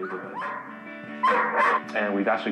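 A pet dog named Bower whining in a house, then breaking into loud, close, repeated barks and yelps, with the whimpers rising and falling between bursts.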